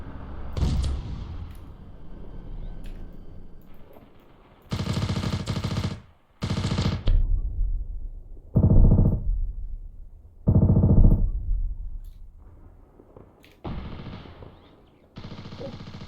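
Gunfire in the video game Ravenfield comes in loud bursts of rapid automatic fire. The repeated volleys are split by short pauses, with quieter stretches of battle between them.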